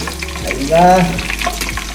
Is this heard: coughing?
no